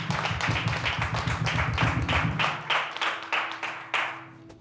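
A church congregation claps its hands in a lively burst of many overlapping claps with a steady underlying beat, gradually thinning into separate, spaced claps as it dies down.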